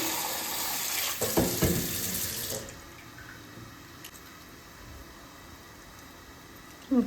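Tap water pours steadily into a kitchen vessel for a couple of seconds and then stops, leaving quiet room tone and a small clatter at the end.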